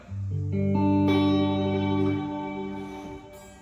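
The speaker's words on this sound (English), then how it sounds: "wow, who was playing that guitar?" A clumsily played electric guitar chord rings out alone, struck in staggered notes that build into a thick, sustained strum with effects, then slowly decays.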